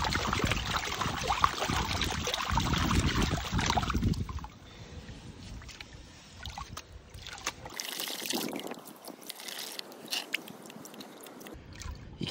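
Black sand is panned with water in a gold pan, giving soft sloshing and swirling water with gritty scraping, louder at first, then quieter with intermittent splashes and trickles close by.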